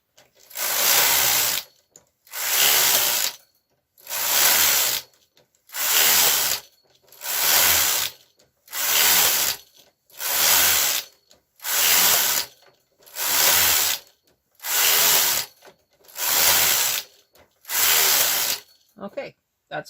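A knitting machine carriage sliding back and forth knitting rows of ribbing, eleven evenly spaced loud whooshing passes about every two seconds, each a rushing mechanical swish separated by brief quiet.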